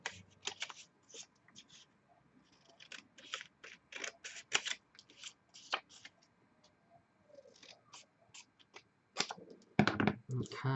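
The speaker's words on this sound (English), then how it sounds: "Now let's cut out the galah." Scissors snip through paper to cut out a colourful paper galah shape, giving irregular crisp clicks and snips close up, with a louder rustle of paper handling near the end.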